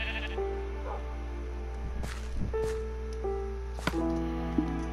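Sheep in the video game Minecraft bleat several times, short wavering calls over a constant low hum and faint game sounds, fairly close and clear.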